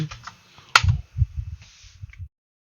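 Close keystrokes on a computer keyboard land in a short, irregular run of taps and clicks, with one sharp louder press near the start, then fall silent.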